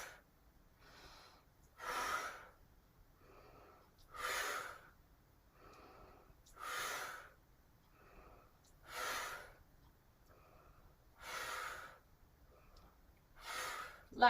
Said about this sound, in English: And so yes, I'm mouth exhaling.